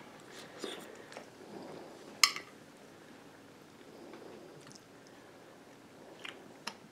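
Beef stew thickened with dehydrated carrots and potatoes being eaten, quiet close chewing with a sharp clink of a utensil midway and a few soft smacks.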